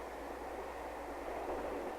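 A train rumbles steadily near Euston Station in London, a continuous low rolling drone with no voices.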